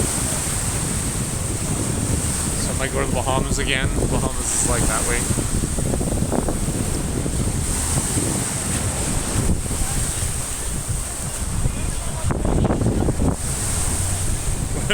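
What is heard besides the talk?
ocean waves at the shore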